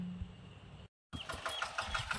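A tractor engine cranks and catches in an urad bean field, a short mid-pitched starter churn broken by a brief gap, then the engine rumbling to life close by.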